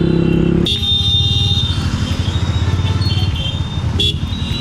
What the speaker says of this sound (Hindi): ये कॉलोनी मोड़ का ट्रैफिक भाई कभी नहीं सुधरेगा